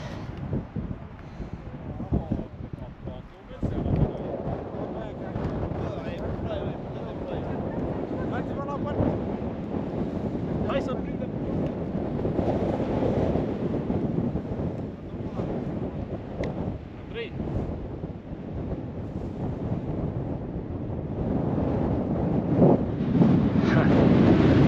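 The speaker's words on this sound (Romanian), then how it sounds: "Poate ceva vânt în creasta Baiului azi." Strong wind buffets the microphone in continuous rumbling gusts on the Baiului mountain ridge in January, building louder toward the end, with faint talk briefly audible beneath.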